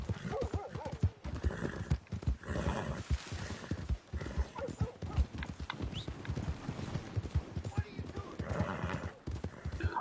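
Horse hooves clip-clopping in the video game Red Dead Redemption 2, a steady trotting rhythm with an occasional whinny, fairly quiet, with someone talking over it.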